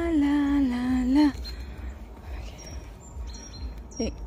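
Birds call among trees on a walk. A person's voice hums at the start, then faint, scattered chirps follow in the quieter background.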